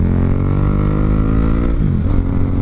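A motorcycle engine hums steadily at close range as it rides along a shaded road through a barangay, with a continuous rich harmonic drone and a brief dip in pitch near the end.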